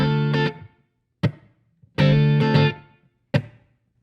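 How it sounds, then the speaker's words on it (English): Short clean electric guitar chords and single strums ring through a V22HD Infinium 22-watt vintage two-channel tube amplifier head, each hit decaying quickly with gaps of silence between. "here's a clean sound"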